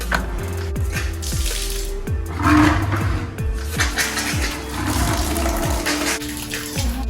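Tap water running and splashing steadily in an indoor hostel bathroom or sink area once the supply returns, a continuous close wash of water with some clattering underneath.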